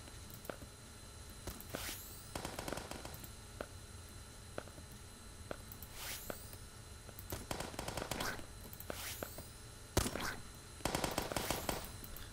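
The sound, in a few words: gunfire in the video game Starbound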